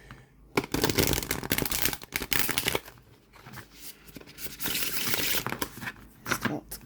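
Near, continuous shuffling of a linen-finish tarot deck, cards riffling and sliding in dense papery bursts with brief pauses between passes.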